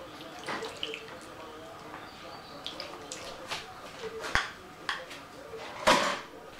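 Water pours into a pot holding shrimp, vinegar, soy sauce and black pepper for shrimp adobo, with gentle splashing and clinks of cookware under a person talking.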